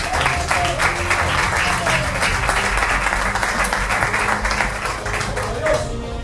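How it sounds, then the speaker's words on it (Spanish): A church congregation claps together in praise, with sustained, fairly loud rhythmic clapping and voices sounding alongside it. "Denle palmas al Señor."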